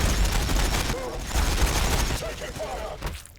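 Ork and Blood Angel units trade fire in a Warhammer 40000 Battlesector multiplayer match, with dense, loud bursts of rapid gunfire and booms rolling over about three seconds and no speech.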